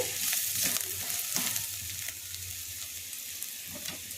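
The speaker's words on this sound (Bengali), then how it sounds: "দিয়ে এই মশলাটাকে একটু নাড়াচাড়া করে" Red chilli powder and turmeric stirred in hot oil in a pan for chicken patties, giving a steady close sizzle with intermittent scraping strokes of a spoon, fading slightly toward the end.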